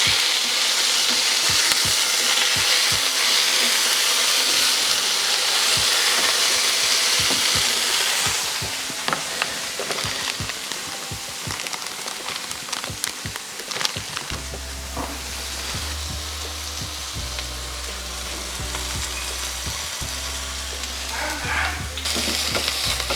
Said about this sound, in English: Now this smash burger, I sense it's ready. Really gotta get it in and flip.